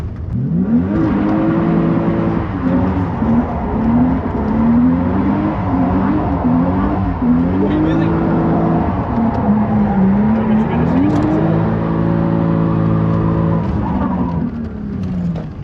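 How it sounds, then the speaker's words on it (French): A car being prepared for drifting revs repeatedly with a worn power steering pump, the engine climbing and falling in a loud, close series of whining revs over about fifteen seconds. "comme tu peux l'entendre, je pense, il y a une pompe de DA À changer"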